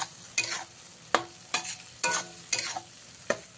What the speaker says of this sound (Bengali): দিয়ে এবারে মশলাটাকে খুব ভালো করে কষিয়ে নিতে হবে।